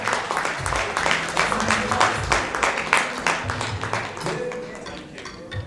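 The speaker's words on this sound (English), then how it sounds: "Let's give him a round of applause." Audience applause for a presenter coming up to give an honorary award at a ceremony, a dense, steady wash of many hands clapping that thins out near the end.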